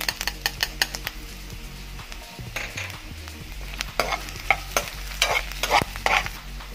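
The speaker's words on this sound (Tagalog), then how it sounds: "Tapos magigisa na tayo." Ginger sautéing in a pan for Filipino pesang tilapia, with a steady sizzle and frying crackle under repeated scraping stirs and metal utensil clinks against the pan, close and fairly loud throughout.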